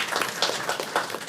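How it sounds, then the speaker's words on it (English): A brief burst of applause at a board meeting honoring graduating students, a cluster of hand claps rising and falling over little more than a second. "they deserve a round of applause for that"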